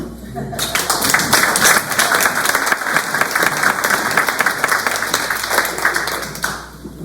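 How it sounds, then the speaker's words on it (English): Audience applause at a church advance gathering in Appling, Georgia: loud, steady crowd clapping that rises quickly and holds for several seconds before tapering off, with some voices mixed in. "let's please give a round of applause"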